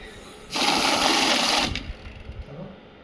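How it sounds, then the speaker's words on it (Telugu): A gobbler cash counting machine riffles a stack of 500 rupee notes in one loud, rapid whirring burst of about a second, then clicks to a stop, leaving faint mechanical rattles. "ఇది మనం ఒకసారి నోట్స్ వేసి కౌంట్ చెక్ చేద్దాము"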